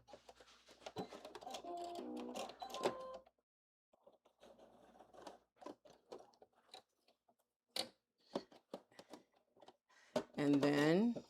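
Home sewing machine stitching across the fabric of a blazer sleeve, short bursts of rapid mechanical whirring that stop and start, close and quiet, with someone talking between and over them.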